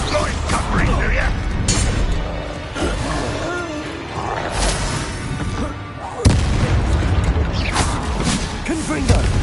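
Loud booming spell blasts from Bombarda and other attack spells in a Hogwarts Legacy battle, with repeated impacts and crashes over dense game music and effects, a sharp strong hit near the six-second mark, and a voice talking at times.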